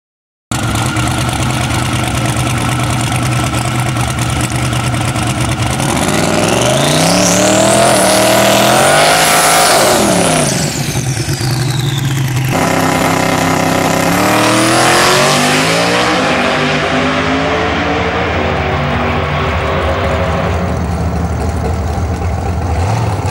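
Drag race cars, including a Skyline and Foxbody Mustangs, launch and accelerate hard at a race car test night, loud engines rising in pitch through the gears, one pass after another with tire noise.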